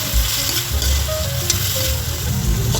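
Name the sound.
boiled chicken flakes sautéing in a pan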